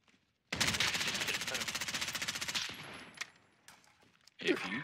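Loud, close automatic gunfire in Call of Duty, a rapid unbroken stream lasting about two seconds, then fading into scattered softer shots and a brief loud burst at the end.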